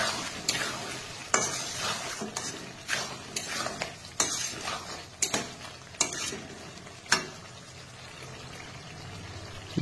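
Chicken skin with salt, turmeric, cumin, Kashmiri chili and coriander powders being stirred in a frying pan, sizzling steadily while a spatula scrapes and clicks against the metal in irregular strokes, close and fairly quiet.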